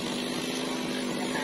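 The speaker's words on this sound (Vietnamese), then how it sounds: "Rồi lấy máy cưa đó." G4500 chainsaw cutting a very tall dau tree outdoors near a market, a loud steady engine whine held at constant revs throughout.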